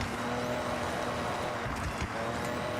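A Forza Horizon car running with a swapped engine drones with a steady, mid-level engine tone, with slight pitch shifts and a few brief higher whines, without any talking.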